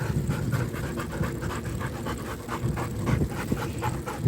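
Dogs pant rapidly and steadily after running alongside a bike, a continuous close rhythmic huffing with faint road noise underneath.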